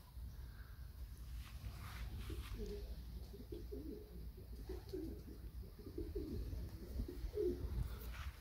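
Young pigeons outdoors during a training flight, soft repeated cooing phrases close by over a quiet steady background, faint and unhurried.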